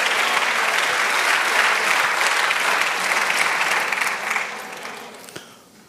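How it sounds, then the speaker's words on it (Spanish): A church congregation claps loudly and steadily during a Spanish-language service led by a pastor, with the applause thinning and fading out over the last second or two. "Pero apláudale al Señor, apláudale"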